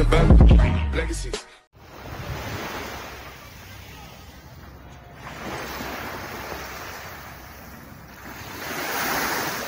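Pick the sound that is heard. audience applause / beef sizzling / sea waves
sea waves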